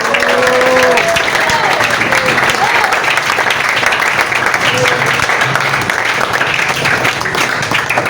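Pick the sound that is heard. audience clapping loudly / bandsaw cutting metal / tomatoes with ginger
audience clapping loudly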